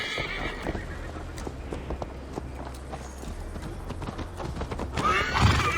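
In Assassin's Creed Valhalla, a horse whinnies and its hooves clip-clop as Eivor mounts up, the hoofbeats close and steady under a faint ambient bed, with a louder neigh rising near the end.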